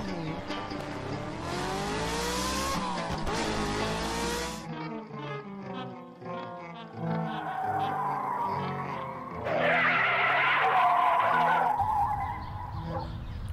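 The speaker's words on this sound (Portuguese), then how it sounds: "Esse carro parece que tá com soluço." A car's engine hiccups, sputters and stalls after running out of fuel in a Brazilian comedy film, with loud wavering revs and choppy bursts over about thirteen seconds and only a brief spoken exclamation.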